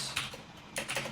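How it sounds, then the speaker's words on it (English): A computer keyboard is typed on close up, in bursts of quick clattering keystrokes with a brief pause between. "Please ignore the sound from my keyboard if it's too loud and annoying."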